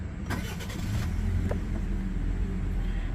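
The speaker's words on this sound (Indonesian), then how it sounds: "Untuk menyalakan mesinnya, kita injak kopling dan pedal rem, putar kunci, dan kita nyalakan mesinnya." Daihatsu Terios 1.5L manual, 2023 facelift, cranking briefly and then settling into a low, steady idle heard up close without talk.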